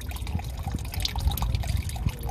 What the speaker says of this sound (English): now you just let it come out, and it just comes out like water